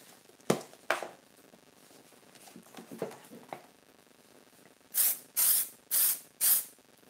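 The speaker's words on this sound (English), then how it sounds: "I spray fix again, ready for layer number 3." Four short aerosol bursts of fixative sprayed onto a chalk pastel car sketch, each a sharp hiss of about half a second in steady succession, preceded by quieter handling clicks and taps.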